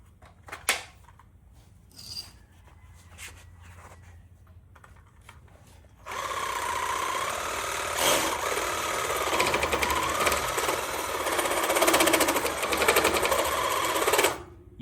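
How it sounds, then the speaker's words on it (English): Sawzall reciprocating saw cutting on a track bar bracket of a 2017 Ford Super Duty truck, a loud steady buzzing rasp for about eight seconds after some quieter clanks and shop noise. "Now, for a little bit of Sawzall."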